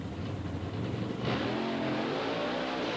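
Monster trucks Clydesdale and Snakebite, a Ford and a Chevy, rev their engines at the start of a race inside the Pontiac Silverdome. The engine roar is steady and loud and grows louder partway through.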